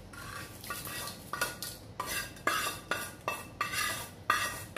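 Tempering is stirred into white pumpkin pickle in a pot, a close, rhythmic series of about a dozen scraping strokes against the metal, evenly paced, with a faint sizzle underneath and no talking.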